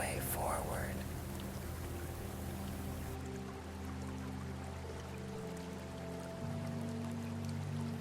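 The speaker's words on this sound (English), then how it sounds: "The steady movement, the soft, layered rush of water finding its way forward." A gentle stream of flowing water gives a steady, soft, layered rush that runs continuously and evenly throughout, with a faint background tone layered underneath.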